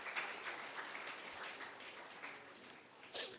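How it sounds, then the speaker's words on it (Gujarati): An audience at a religious discourse marking a swami's 54th birthday claps in steady, crackling applause to welcome an arriving guest. The sound is faint and distant, rising briefly near the end, with no talk over it. "જોરદાર તાળીઓથી વધાવો."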